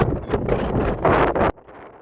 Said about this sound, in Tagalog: Mahangin nga